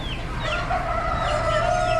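Roosters crowing and hens clucking among caged poultry at an Amish animal auction, several birds overlapping in a steady, close barnyard chorus.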